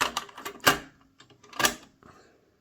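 Cassette tape slotted into a JVC cassette deck: a few sharp plastic clicks and clacks, close and crisp, with a louder snap near the start and another midway, then quiet.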